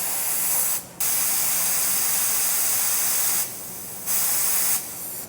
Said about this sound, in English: So now I'm going to take some soapy water and just spray all of our fittings and see if there's any large bubbles forming